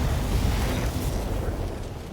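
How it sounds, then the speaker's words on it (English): A BattleTech mech unloading all of its weapons at once, a loud, dense roar of blasts and explosive bursts that fills the whole moment without a break, with no voices. "Firing all weapons."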